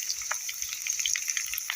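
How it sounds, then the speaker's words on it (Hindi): Potato pieces frying in a pan with chili and turmeric powder over medium flame, a steady hiss with light crackles and a few soft stirring knocks close by. "अब हम इसे 3 से 4 मिनट के लिए मीडियम फ्लेम पे इस आलू को अच्छी तरह से भून लेंगे"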